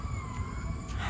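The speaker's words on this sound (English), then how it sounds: "I do not know what that siren is." A distant emergency siren near a downtown fair holds steady, faint tones for about a second over low background rumble, with no one speaking.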